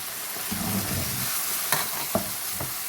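Stirring matar pulao with tomato in a hot pan, a steady soft sizzle with scraping strokes of a spoon and a few sharp taps against the pan.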